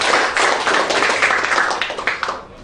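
A small group at an organizational meeting in Bali claps in a close, brisk patter that fades slightly toward the end, with no voices over it.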